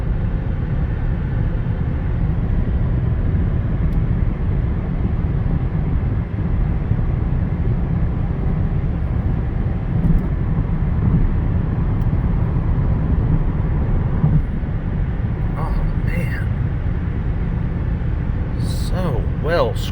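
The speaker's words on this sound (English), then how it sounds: "Oh, this thing's so quiet. Listen." A 2020 Chevrolet Impala LT with a V6 engine is driving, heard from inside the cabin. A smooth, subdued low rumble of engine and road noise runs steadily throughout, with a few faint clicks toward the end.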